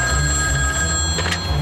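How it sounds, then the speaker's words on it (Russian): An old telephone bell rings continuously, a bright metallic jangle over a low rumbling background, steady and fairly loud. "Мэл у телефона"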